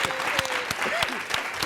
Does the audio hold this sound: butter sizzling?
no